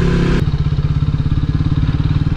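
Legend150 motorcycle ridden standing up over a rough road, its engine giving a steady, fast pulsing chug close to the microphone after a brief louder burst at the start, with no talking.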